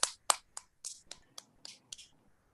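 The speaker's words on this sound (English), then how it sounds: "I'll give you a clap" A single person clapping in a classroom, giving about eight sharp, separate claps spaced roughly a third of a second apart, close and fairly quiet, with no voices over them.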